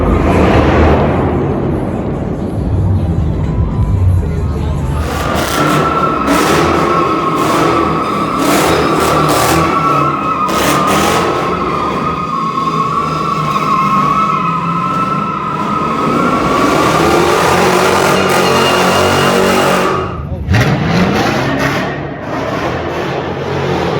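At a wild car meet on a city street, a car does a burnout: a loud engine roar with screeching, skidding tires rises after a few seconds, holds for about fifteen seconds, then cuts off abruptly.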